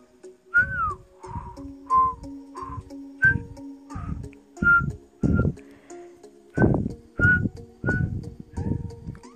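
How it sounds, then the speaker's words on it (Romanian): A person whistles a string of short, bright notes over a steady, thumping rhythmic beat while playing Clash Royale, each note close and clear. "O să ziceți că cam înnebunit că încep să fluier."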